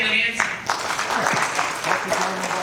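Audience applause at a public trash and sewer rate hearing, a dense crowd clapping steadily throughout with voices mixed in the background.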